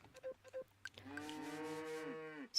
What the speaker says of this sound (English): we have so many cows right now